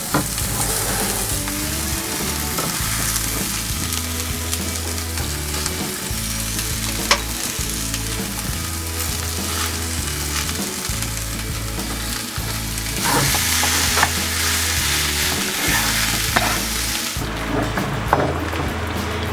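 Potato samosa filling fries in a kadhai while being stirred, a loud steady sizzle and crackle close by with repeated rhythmic scraping of the spoon against the pan throughout, no speech.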